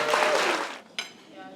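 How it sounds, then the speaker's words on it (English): Audience applause at an evening business awards ceremony, a broad wash of clapping that fades over about a second before a short sharp burst and lingering room tone. "Let's give them all a warm round of applause."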